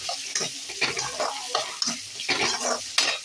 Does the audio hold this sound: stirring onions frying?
yes